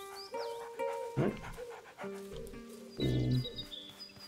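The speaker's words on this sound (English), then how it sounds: "Guess that's our dog." In the medieval game A Plague Tale: Innocence, a dog pants in quick breathy bursts close by. Tonal music or ambient sound plays underneath, and there is no clear speech.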